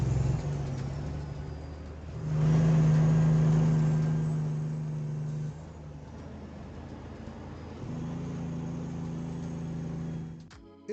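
A truck engine with its engine brake engaged, releasing air through the exhaust valves, gives a loud low drone that swells, holds, then drops and later returns at a steadier level before cutting off.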